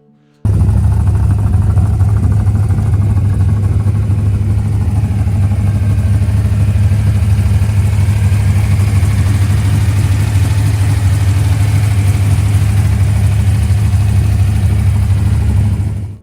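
A 1969 Plymouth Roadrunner Pro Street with a big-block V8 idles steadily for about fifteen seconds, a deep, even, loud rumble heard up close with no talking.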